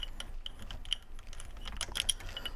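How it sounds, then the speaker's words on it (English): A ratchet wrench backs out the bolt that holds a shock in a shock spring compressor tool, making quiet, rapid clicking bursts of the pawl with small metallic ticks, close and alone. "undo the bolt holding it in the tool."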